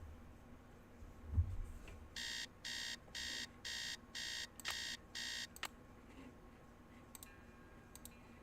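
An alarm clock rings in the Nancy Drew: Secret of the Scarlet Hand video game, seven evenly spaced bright electronic beep bursts after a soft thump, then a few clicks as it stops.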